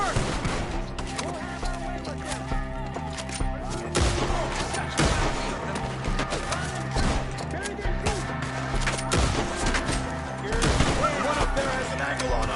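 Shootout gunfire in Red Dead Redemption 2 against enemies perched in trees, sharp shots cracking repeatedly and irregularly amid a busy game soundtrack and background noise, with shouting voices in places.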